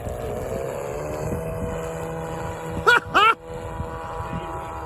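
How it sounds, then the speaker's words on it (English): A steady motorboat engine drones throughout, with a brief sharper burst of higher-pitched whine near the end, partly masked by wind. "I like the sound of that prop."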